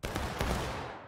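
A single musket volley crashes out at a Civil War reenactment, a loud, close burst of many black-powder shots merging into one blast with a rolling echo trailing off.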